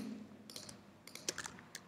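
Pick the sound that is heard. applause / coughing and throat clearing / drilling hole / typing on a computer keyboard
typing on a computer keyboard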